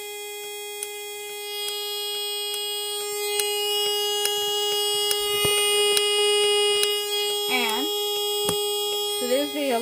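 A building fire alarm triggered from a pull station sounds continuously as a loud, steady buzzing tone with periodic sharp clicks, while a person talks briefly near the end.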